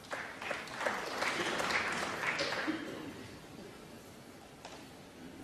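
A snooker crowd at the Masters applauds John Higgins's break, a swell of clapping that peaks then fades away to scattered claps, with a commentator speaking over it.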